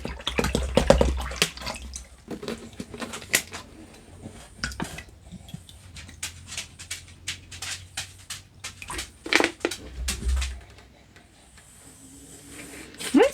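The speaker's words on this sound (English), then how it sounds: "So now I'll just go ahead and fill this up to the 4-cup line." Water poured into a measuring cup up to the 4-cup line while preparing a shelf-stable taco meal kit, heard as irregular splashing and trickling bursts alongside clinks and handling noises.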